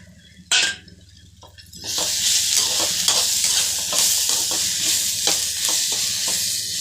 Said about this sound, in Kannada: ಕ್ಯಾಪ್ಸಿಕಮ್ ಹಾಕ್ಕೊಂಡು ಫ್ರೈ ಮಾಡ್ಕೊಳ್ಳೋಣ.